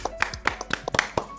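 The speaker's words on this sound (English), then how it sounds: "Oh, another clap!" Hand claps in a quick irregular series, sharp and close, with a voice briefly audible alongside.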